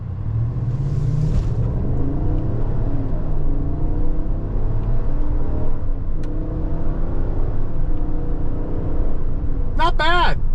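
A 2025 Chevrolet Suburban LS accelerates in sport mode with paddle shifting, its engine droning loudly and steadily from inside the cabin, with rising and falling tones as it shifts.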